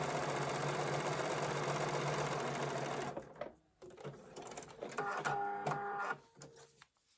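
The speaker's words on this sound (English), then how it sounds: "take it to the sewing machine." A sewing machine runs steadily for about three seconds while stitching a quilt block for a 24-inch snowflake foundation-paper-pieced pattern, then stops, followed by some handling noises and a brief softer buzzing burst.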